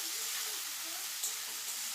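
Beans, carrot, capsicum and peas frying in hot ghee and oil, a steady hissing sizzle, close and moderately quiet, with no clear talking.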